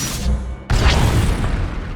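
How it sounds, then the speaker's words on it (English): Flux cannons fire on a capital ship in Star Wars: The Old Republic, a sudden heavy boom with a sharp onset followed by a rolling, rumbling roar. "That's the sound of my flux cannons incinerating one of your capital ships."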